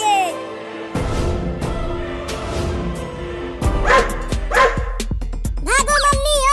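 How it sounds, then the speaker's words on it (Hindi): A dog chasing a cat lets out several loud, close barks and high yips mixed with whimpers, and people talk over and between them. "एक कुत्ता जा रहा है तुम्हें पकड़ने के लिए।"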